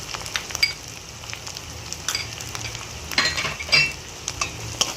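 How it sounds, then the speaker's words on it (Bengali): Spice paste with garlic paste frying in a pan, a close crackling sizzle with repeated scraping and light clinks of a spatula working the mixture, no talking. "ভালো করে মশলাটা কষিয়ে নেব"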